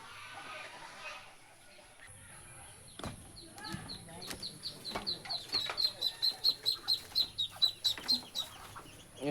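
Ducklings in a brooding pen give a run of high, rhythmic peeping chirps that grow louder and more regular, heard up close with some handling noise and background sounds.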